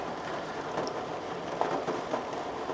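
Faint, steady rain patters continuously on a car with the window slightly down, no voices, a soft even hiss throughout.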